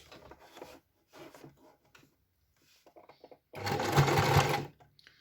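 A household sewing machine stitches a short forward seam through fleece for a buff-style hat, a steady close whirring burst of about one and a half seconds following quieter scattered handling sounds.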